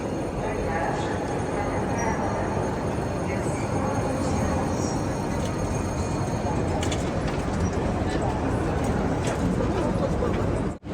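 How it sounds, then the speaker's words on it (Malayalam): A Eurostar high-speed train in Paris makes a loud, steady rumble and roar that fills the whole stretch and cuts off abruptly at the end, with a faint murmur of voices underneath. "യൂറോ സ്റ്റാറിൻ്റെ ഒരു ട്രെയിനാണിത്"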